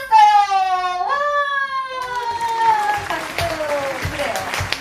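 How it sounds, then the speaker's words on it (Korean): A small group claps fairly close by, a moderate patter of scattered hand claps that follows a loud, drawn-out vocal exclamation. "박수!"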